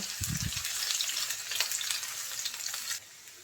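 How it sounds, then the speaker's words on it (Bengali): Chopped onion fries in hot oil with a dense, close sizzle and a few low clanks at the start, steady crackling that drops away abruptly near the end. "পেঁয়াজ কুচি দিয়ে দেব পেঁয়াজটা লাল করে ভেজে নেব"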